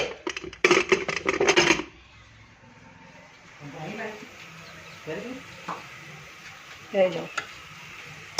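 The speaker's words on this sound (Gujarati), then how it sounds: "રાતની ખીચડી છે, એને શેકી કાઢું." Leftover khichdi sizzles softly in a pan with onion, garlic and ginger paste, with intermittent scraping stirs and clinks; a voice talks loudly at the start, then the quiet frying continues under occasional speech.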